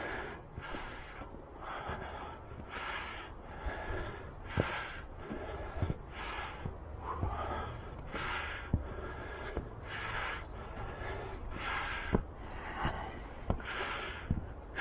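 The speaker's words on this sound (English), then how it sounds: "you're listening to me breathing heavily" Heavy, rhythmic breathing of a hiker climbing uphill on Marjan Hill in Split, close and loud, with regular paired inhale and exhale bursts about every second and a half over a quiet outdoor background.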